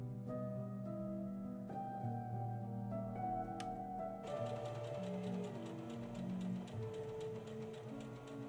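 A sewing machine edge stitches the twice-folded, pressed edges of a wedding dress bodice made from thrifted fabric, running as a steady, continuous mechanical whir with a hum that stays even throughout.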